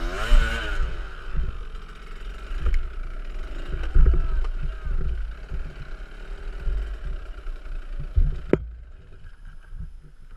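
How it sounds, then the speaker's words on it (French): A KTM 65 SX dirt bike engine idling roughly and being revved in repeated bursts, loud and close, with a sharp spike near the end before it drops lower; the bike is not holding its idle. "il tient pas le ralenti, j'accélère."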